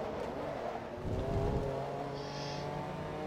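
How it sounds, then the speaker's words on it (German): An Aston Martin DB9 engine in the racing game Forza Motorsport 2, a steady moderate drone of revs with a brief rise and faint tire noise, played alone without talk. "Aston Martin DB9."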